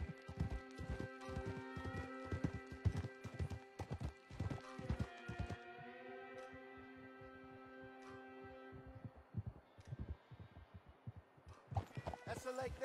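Horse hooves clip-clop steadily as a rider travels in the video game Red Dead Redemption 2. The close, rhythmic beats pause midway, then resume, over sustained musical tones.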